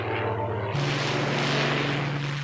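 A Spitfire propeller aircraft at the Biggin Hill airshow, its engine a steady loud drone that swells into a broad roar partway through as the plane passes nearby.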